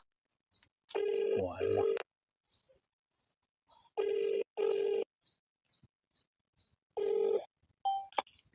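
Mobile phone keypad tones sound in short, loud bursts of about a second each, separated by quiet gaps, with faint background chirps and light noise between presses.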